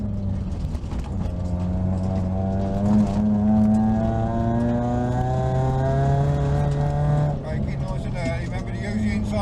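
Suzuki Swift Group N rally car engine droning steadily with a rising, shifting pitch while driving on loose gravel, loud and close, with a voice talking over it.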